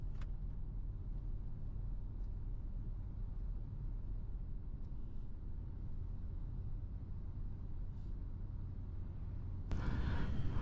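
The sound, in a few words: van driving on highway in Quebec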